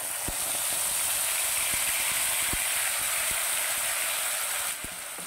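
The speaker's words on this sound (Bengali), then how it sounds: "এবারে তেলটা আমার গরম হয়ে গেছে। এবারে আমি দিয়ে দিচ্ছি পেঁয়াজ বাটা।" Ground onion paste hits hot oil in a pan used for a tangra fish curry, giving an even, loud, broad hiss with scattered light ticks throughout.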